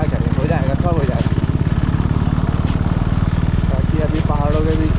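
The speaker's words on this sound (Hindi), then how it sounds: "पहाड़ों के बीच में बाइक चलाने का अलग ही मज़ा है।" A motorcycle engine putters at a steady, rapid beat while riding through the mountains near Mussoorie, close and loud, with a pitched whine rising and falling over the throb.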